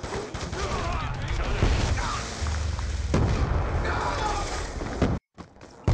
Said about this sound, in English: you just double tap reload to detonate the C4